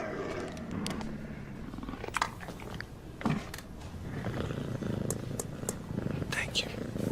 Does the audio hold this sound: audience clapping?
no